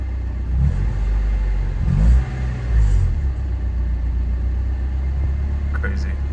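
Honda Civic engine idling rough: a close, low, uneven rumble with a few brief rises in revs, and a person talking over it.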